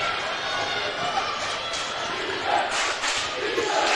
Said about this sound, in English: man, that student crowd is loud